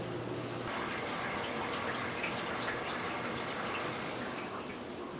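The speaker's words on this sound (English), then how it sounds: "As you hear the water filling," Water steadily fills the tank of an Omcan 23-inch undercounter dishwasher, a continuous broadband rush and hiss at an even level throughout, with no talking.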